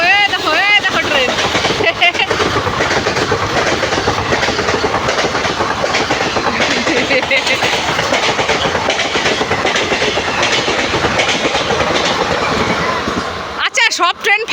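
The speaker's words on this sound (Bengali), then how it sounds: "অন্ধকারের মধ্যে ঘুরছি দেখো ট্রেন" A train rolls past at night near NJP railway station, a loud continuous clatter of wagons with rhythmic clickety-clack over the rails, ending abruptly near the close; a horn-like tone sounds briefly at the start.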